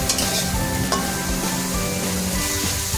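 Frying in a pan gives a loud, dense sizzle throughout, with repeated scrapes and knocks as the contents are stirred; close and continuous, with no talking.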